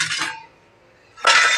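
Metal cooking pots clink as they are handled at home, in two short bright bursts of rattling separated by a near-silent pause.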